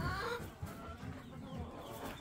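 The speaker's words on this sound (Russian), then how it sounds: "индюки уже достаточно хорошие" Young turkeys about five months old on a small farm, giving a quick burst of clucking and gobbling calls at the start, then continuing with softer low poultry chatter nearby.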